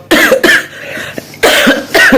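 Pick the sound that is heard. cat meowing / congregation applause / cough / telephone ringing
cough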